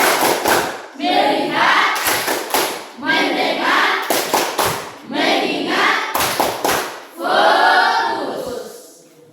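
A classroom of students chants the 'tepuk fokus' focus routine in unison, their voices punctuated by loud, sharp clusters of rhythmic hand claps repeating in several rounds.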